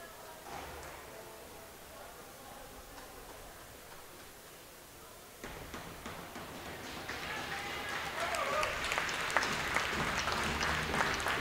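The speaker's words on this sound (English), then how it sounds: "A round of applause for Will Morgan" Arena crowd at a hockey playoff final game applauds a goaltender, starting as a low murmur and swelling into broad, sustained clapping and cheering in the second half, with voices mixed in.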